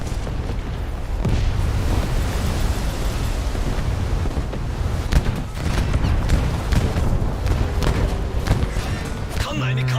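Naval gunfire in a naval combat video game as a ship fires on a Fletcher destroyer's turrets: repeated booming shots and explosions over a constant rumbling battle backdrop, with sharp blasts near the end.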